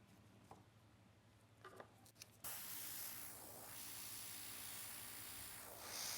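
An airbrush sprays paint onto nails during nail art, starting after a few soft clicks and taps as a steady, close hiss that holds for several seconds.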